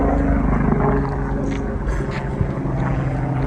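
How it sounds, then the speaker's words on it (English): A helicopter flying high overhead outdoors makes a steady, loud low rotor drone and rumble that holds throughout, with a faint knock partway through. "that's a helicopter flying over."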